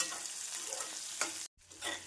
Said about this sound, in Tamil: பூண்டு சேர்த்து மீடியம் ஃப்ளேமில் நன்றாக வதக்க வேண்டும்